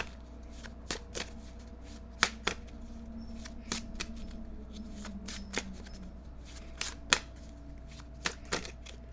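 A deck of tarot cards is shuffled by hand at close range, giving repeated crisp riffles and slaps in an irregular rhythm over a quiet, low background hum.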